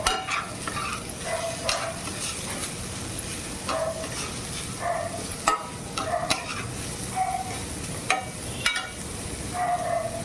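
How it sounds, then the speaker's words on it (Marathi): Onion fries and sizzles steadily in a kadhai while being stirred, with repeated scraping strokes and clinks of the spoon against the pan throughout, close and continuous, no talking. "आता कांदा भाजून घेऊया."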